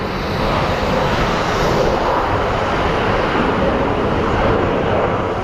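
A jet airliner at Phoenix Sky Harbor airport roars as a broad, constant wash of engine noise, loud and steady throughout with no voices.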